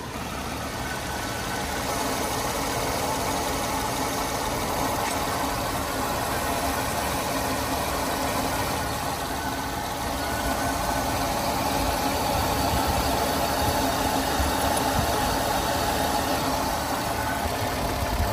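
A warmed-up Mercedes ML engine idles steadily, a continuous even rumble with a faint high whine, close by and alone.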